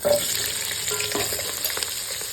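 Sliced onion and green chilli with spices hiss and sizzle steadily in hot oil, a continuous close frying crackle with light stirring scrapes, no voices.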